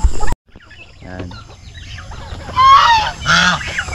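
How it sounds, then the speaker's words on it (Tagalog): Farm geese honk loudly and close by among turkeys and native chickens, with a sharp thump at the start and then a couple of harsh honking bursts over clucking. "Meron tayong gansa, pabo, may mga manok din tayong mga native chicken."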